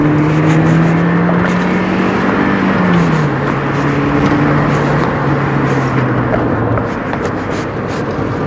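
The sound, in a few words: MG F VVC engine revving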